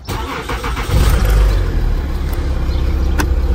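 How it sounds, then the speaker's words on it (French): A car engine cranks and catches, settling into a steady low idle that rumbles close and loud under a brief high whine and a faint beep. "Je la démarre."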